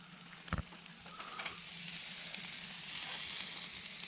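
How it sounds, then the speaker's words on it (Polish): Sausages sizzle and hiss softly on a grill, with a brief clack early on and a steady frying crackle building afterward. "Robię grilla."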